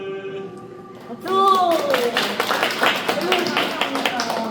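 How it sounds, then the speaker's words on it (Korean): Live audience at an art show event clapping together after a performance, a broad burst of applause rising sharply after a quiet moment and continuing steadily, with voices mixed in. "박수!"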